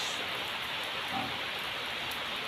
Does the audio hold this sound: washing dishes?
no